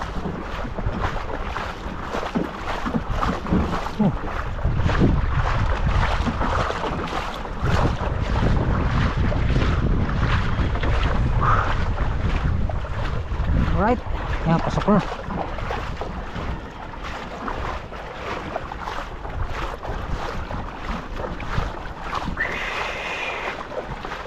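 Strong northerly wind buffets the microphone continuously over rushing sea water and a fishing boat's motion, loud and close, with brief voices underneath.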